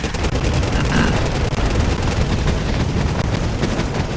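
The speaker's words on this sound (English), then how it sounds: "My artillery hits at the same time." Loud, relentless barrage of artillery and gunfire from the Wargame strategy game, overlapping blasts and rapid shots merging into a continuous roaring battle din with no pauses.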